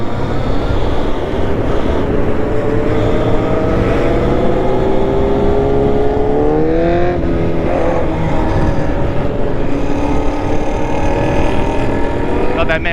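A car passes in traffic during a motorcycle group ride on an electric bobber, heard as a steady roar of engine and road noise with a rising engine whine midway and a voice speaking over it.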